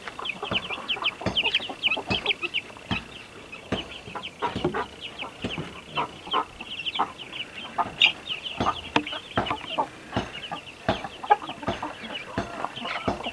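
Native chickens cluck and chatter busily throughout, with many short overlapping calls from several birds close by, no talking.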